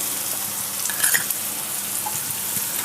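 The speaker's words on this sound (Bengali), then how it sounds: "মশলা ভাজা হয়ে গেছে" Spices sizzle steadily in hot oil in a pan while dal tadka is cooked, a close, continuous crackling fry with a few brief stirring scrapes.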